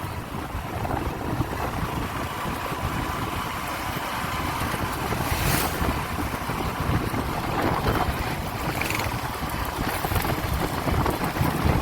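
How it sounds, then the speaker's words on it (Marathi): Strong wind roars steadily against the microphone, a loud continuous rumble and buffeting with no voices. "वाऱ्याचा आवाज बघा केवढा आहे वारा बघा"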